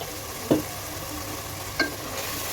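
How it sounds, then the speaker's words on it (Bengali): Spices are stirred in a hot pot for beef tehari, a steady sizzle broken by two sharp spoon-against-pot scrapes about a second apart. "দিয়ে ভালো করে নাড়াচাড়া করে নিচ্ছি।"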